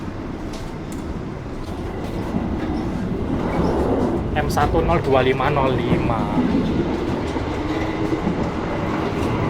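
A passenger train rolls along with a steady rumbling drone and rhythmic wheel clatter, heard from inside, with a brief voice over it.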